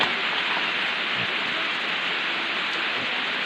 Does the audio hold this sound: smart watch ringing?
no